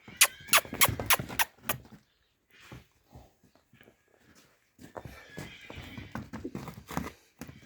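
A broad-backed purebred Kyrgyz horse from Bishkek with black hooves, offered alongside a black foal, gives a loud, close, shrill whinny at the start. Quieter snorts, shuffling and hoof or handling noises follow, with no talking.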